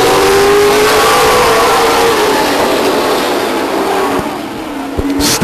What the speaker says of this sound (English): Stock car racing in the form of a 4-lap trophy dash.